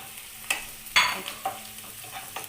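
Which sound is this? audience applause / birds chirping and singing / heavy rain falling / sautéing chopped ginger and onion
sautéing chopped ginger and onion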